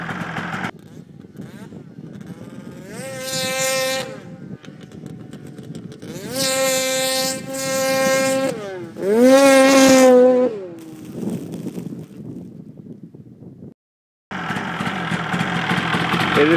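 A 2003 Polaris RMK 700 snowmobile fitted with an SLP muffler runs close by in about -3 °C cold, idling with a low rumble and revving up sharply several times in rising, falling bursts, with brief quiet stretches between.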